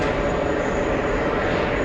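A departing airliner bound for Venice sends a steady, broadband jet roar through the whole moment, even and continuous, with no voices over it.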